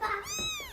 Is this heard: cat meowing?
yes